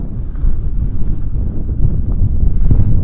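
Strong wind buffets outdoors on the coast, a continuous low rumbling roar with gusty surges, loud and close with no other sounds.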